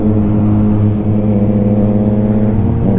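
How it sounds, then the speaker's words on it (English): A Yamaha MT-09 motorcycle with an Akrapovic exhaust idles with a deep, loud, steady rumble, its low tone pulsing evenly up close with no talk. "Man, listen to those rumbles, man. I think this bike has an Akropovic exhaust"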